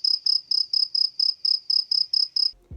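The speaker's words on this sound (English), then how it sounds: "That's right, just crickets." A cricket chirps in a regular series of about eleven close, bright pulsed trills at an even rhythm, then stops as a low thump cuts in at the end.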